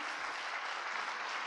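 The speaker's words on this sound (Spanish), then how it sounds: "Ahora sí, dele ese fuerte aplauso al Señor." A church congregation breaks into steady, dense applause that fills the whole moment, loud and even throughout, with no one speaking over it.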